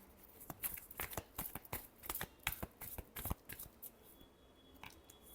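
Tarot cards are shuffled close up, a quiet, rapid run of papery riffles and slaps that thins out toward the end, with no voices.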